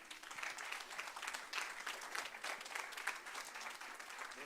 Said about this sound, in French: Vous pouvez l'applaudir, hein, s'il vous plaît.